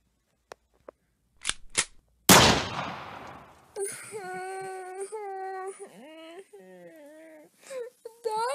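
A single sharp gunshot from a played 2013 video bursts out loud and close, trailing into a noisy decay, then gives way to a high wailing, whimpering cry; a few faint clicks come before it.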